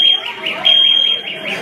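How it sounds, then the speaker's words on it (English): A fire alarm sounds continuously with a repeating pulsed electronic tone, close and loud, while people talk and chatter over it. "He set off a freaking fire alarm."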